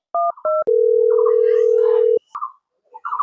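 Telephone dialing sounds up close: two short keypad tone beeps followed by a long steady dial tone, then a brief voice and another short tone burst.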